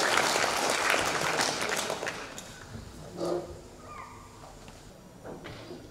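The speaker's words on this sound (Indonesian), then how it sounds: "kita tepuk tangan" An audience claps at a tourism competitiveness outreach event in Tana Toraja, loud and dense at first, then thinning and fading after a couple of seconds, with a voice briefly audible.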